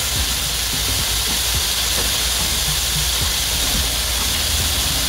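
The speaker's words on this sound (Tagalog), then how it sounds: "Hayaan muna natin ma-prito bawat side niya." A constant loud sizzle and crackle of pork steak frying in hot oil in a pan, close up and unbroken, with faint occasional pops.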